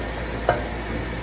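Onions browning in a pot for beef barley stew, a steady low sizzle with one brief stir-like tick, close and continuous without speech.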